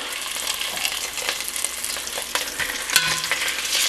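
Floured Swiss steaks brown in oil at the bottom of a large pot over medium heat, giving a steady close frying sizzle with small pops and an occasional clink, no voices.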